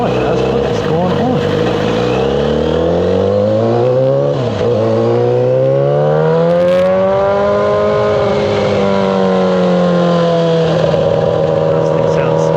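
A straight-piped Yamaha R6 motorcycle rides along with a loud, continuous engine roar, its pitch rising and falling through revs and gear changes, close and steady.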